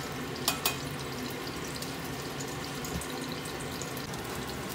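Fishballs frying in a pan for a home breakfast, a steady close sizzle and crackle throughout with a couple of brief sharp pops near the start.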